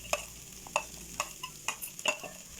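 Onions frying in a pan for chicken sisig, a low sizzle under a regular series of sharp metallic spoon scrapes and taps about every half second, close by, no talking.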